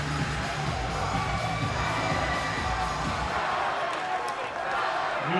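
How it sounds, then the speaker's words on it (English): A crowd at a varsity high school ice hockey game roars and cheers in a rink, a sustained wash of voices with rink knocks and thumps, as an announcer talks over it. "And the crowd ratchets up the sound here with 7:33 remaining, and Valor threatening again as Fekete just"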